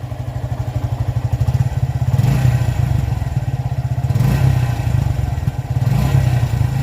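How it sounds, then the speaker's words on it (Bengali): A Suzuki motorcycle engine idles loudly up close, its exhaust thumping in a fast, steady pulse that swells slightly a few times. "বাইকের এক্সজস্টের সাউন্ডটা কেমন যেন একটু লাউড লাউড লাগতেছে"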